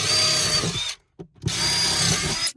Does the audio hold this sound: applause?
no